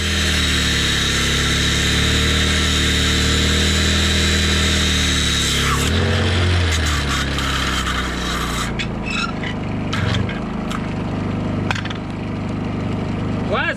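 An angle grinder cuts through bolts on the blade of a Komatsu D51PX-22 dozer during cutting edge replacement, a steady loud grinding whine with rasping metal contact that shifts pitch partway through, continuous and close, with occasional speech underneath.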